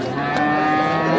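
At the Puliyampatti cattle market, a native cow lets out a long, loud, sustained moo with rich harmonics, heard up close.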